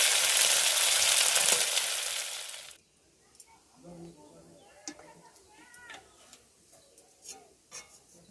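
Prawns frying in hot oil give a loud, dense sizzle for the first few seconds, which then drops away to quiet kitchen clatter and faint pan sounds.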